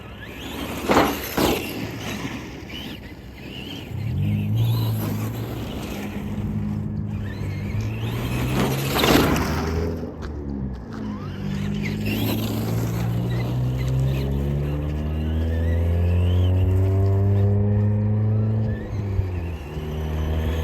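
A Traxxas RC car fitted with a wheelie bar drives and jumps outdoors, its small electric motor whining up in rising and falling pitch sweeps as it accelerates, loud and close, with rough thumps and clatter early on.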